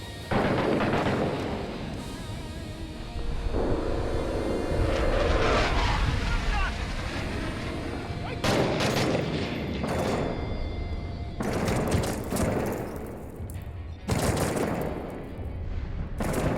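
Gunfire in Six Days in Fallujah crackles in repeated bursts and sharp volleys, several distinct loud reports standing out over a dense background of combat noise.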